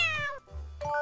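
A pet cat meowing indoors, two short, clear, close meows separated by a brief pause.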